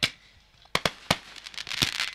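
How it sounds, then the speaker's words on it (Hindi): Firecrackers and fireworks bursting at a Chambharli versus Bhatale event, with sharp loud bangs at irregular intervals over a crackling, hissing background. "फटाकों की आतिशबाजी हो रही है."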